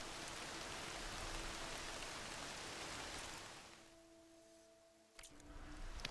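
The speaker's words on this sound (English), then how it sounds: "It's still freaking raining." Steady rain hisses across a stormy landscape in the action game Horizon Forbidden West, a broad dense wash that eases and thins partway through before swelling again, with faint tonal game sounds underneath.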